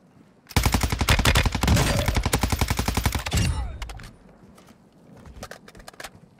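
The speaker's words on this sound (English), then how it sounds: "this battle rifle is so good" A battle rifle in Warzone 2.0 fires a long, rapid, sustained burst, loud and close, for about three seconds, then cuts off into quieter scattered clicks and movement sounds.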